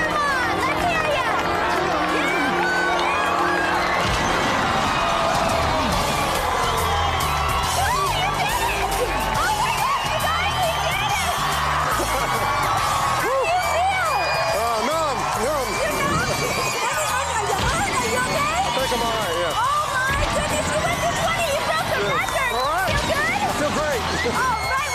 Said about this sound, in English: Let's really cheer him on.